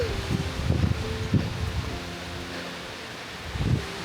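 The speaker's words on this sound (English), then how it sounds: "Both times it's just been brutally windy." Strong December wind on the Allegheny Discovery Route roars and buffets across the microphone in loud, irregular gusts, with a low rumble throughout.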